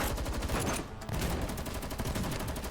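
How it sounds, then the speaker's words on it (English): Rapid gunfire rattles inside a house in a dense, continuous volley, loud and harsh, with only a brief dip before it resumes. "Are those gunshots?"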